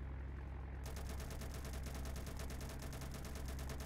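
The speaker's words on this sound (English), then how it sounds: "I'm gonna start opening fire." Video game gunfire pours out as a dense, continuous automatic burst with rapid evenly spaced shots for several seconds over heavy low rumble, loud and unbroken, with no voices.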